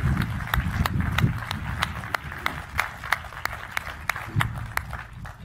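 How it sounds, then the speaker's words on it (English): An audience at a university presidential convocation applauds, with sharp, evenly spaced claps standing out in a steady rhythm over softer, scattered clapping and low rumbling room noise. "let's give them another round of applause"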